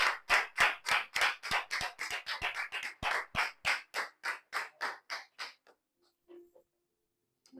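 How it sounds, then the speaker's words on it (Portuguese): A church congregation claps at a worship service, a run of about twenty sharp, rhythmic, fairly near claps that slow and fade out near the end, with no speech over them. "Aplauda o Senhor em nome de Jesus."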